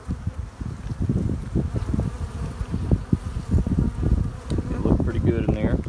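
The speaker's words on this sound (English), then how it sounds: "I've already fed a few colonies of bees here." Honeybees buzz steadily and close at an open beehive during a December hive check in winter, a dense continuous drone with occasional rustling and handling noises, and a person talks intermittently over it.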